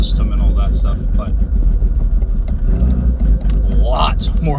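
Idling vehicle engine fitted with an 8mm EDC diesel injection setup, running just after its fuel system was primed, a steady loud low rumble with a person talking over it.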